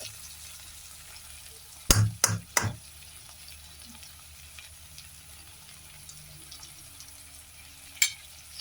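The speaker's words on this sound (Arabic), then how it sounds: "بعد ما شوحناه بقى شوية كده مقرب على السوا" Tomatoes sautéing in a pan give a soft steady sizzle, broken by three sharp scraping stirs early on and another near the end.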